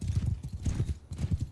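Horse hooves clip-clop in a steady galloping rhythm during a video game match, repeated thudding beats heard close and fairly quiet, with no speech over them.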